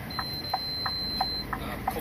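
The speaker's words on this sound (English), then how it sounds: "apart from that beep beep noise for no reason whatsoever, probably just raindrops" A warning beep repeats at a quick, even pace inside a Scania truck cab, soft and close against a low background hum.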